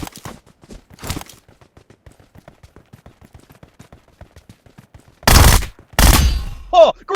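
Video game gunfire: a sharp shot stands out amid a light pattern of ticking footsteps, followed later by two loud, close, back-to-back blasts and a short trailing effect.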